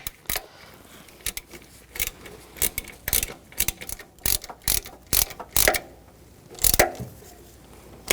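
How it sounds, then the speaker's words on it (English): Tool clicks from tightening the alternator bolts on a 2014-2020 Nissan Rogue 2.5L four-cylinder, a close, fairly quiet ratchet clicking in short irregular bursts with small metallic knocks. "Just tighten these bolts down."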